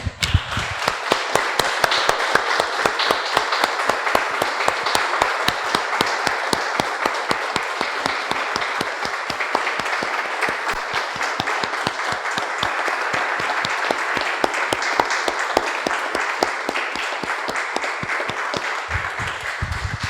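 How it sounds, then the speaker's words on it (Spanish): A church congregation applauds the Lord after a prayer, a long, loud and sustained burst of dense clapping with sharp rhythmic claps standing out, continuing unbroken for the whole span. "Damos un aplauso, hermanos, al Señor"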